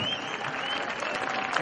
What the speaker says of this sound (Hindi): यानी पूजन अंसारी ग्रुप है, एक बार जोरदार तालियां बजा सकते हैं।